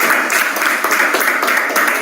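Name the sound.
applause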